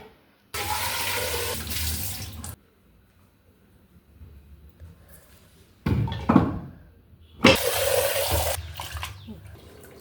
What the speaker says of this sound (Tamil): கல் கழுவிட்டு வந்துடலாங்க.